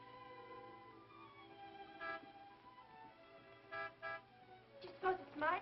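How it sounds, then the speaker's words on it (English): Several short car horn toots, spaced apart and growing more insistent, heard under a quiet room tone. "You know Martin would never honk a horn at a lady."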